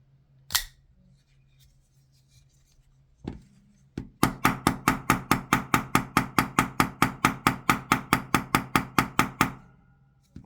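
Rapid series of about twenty-five sharp, evenly spaced whacks against the spine of a Hinderer XM18 folding knife during a lock test, loud and close, preceded by two isolated knocks.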